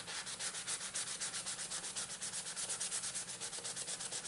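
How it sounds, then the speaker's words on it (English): A 150-grit sanding block rubs steadily back and forth over a Case XX steak utility knife handle with brass fittings, giving a close, rhythmic, continuous scratching with no talk. "I'm going to use a 150 block here,"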